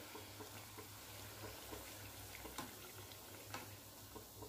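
Sweet puris frying in oil, a faint, steady bubbling sizzle with a few soft ticks and crackles, quiet and continuous with no talking.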